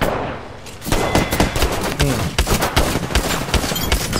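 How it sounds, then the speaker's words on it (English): Heavy shotgun blasts in an Apex Legends firefight, several loud booming shots in irregular succession amid clattering game effects and close-range combat noise. "She got triple tapped with shotguns."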